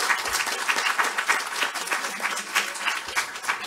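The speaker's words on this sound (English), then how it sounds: "Let's give a round of applause to our panelists." Warm applause from a conference audience for a panel on the ACA individual market, a steady, moderately loud wash of many hands clapping that continues without pause.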